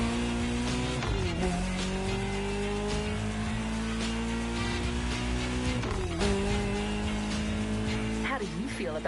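A Ferrari 308 GTS driving in the racing game The Crew Motorfest, engine droning steadily with gear shifts and rising revs, a brief tire squeal, under game music and voices.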